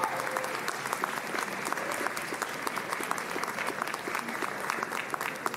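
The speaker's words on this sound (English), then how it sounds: "graduates, it's your turn to cheer, clap, and applaud these wonderful people" Nursing graduates applaud at a university commencement ceremony, a dense, steady crowd clapping that carries evenly throughout, heard close and fairly loud with no individual voices standing out.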